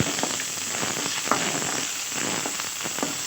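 Garlic and curry leaves roast in a pan over a slow flame, giving a steady crackling sizzle with scattered sharp pops throughout and no talking.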